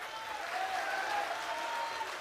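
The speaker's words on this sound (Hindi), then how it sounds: "आनंद आया तो ताली बजाइए" Seated audience claps together at a religious darbar gathering, a dense continuous patter of applause heard from a moderate distance, fairly soft throughout.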